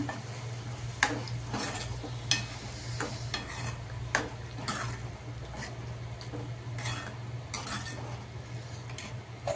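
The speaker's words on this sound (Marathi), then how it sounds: "त्याच्यात आपण हे शिजलेले छोले टाकू" Cooked chickpeas stirred in hot oil, a soft steady sizzle under repeated clinks and scrapes of a spoon against the pan, with a low hum in the background.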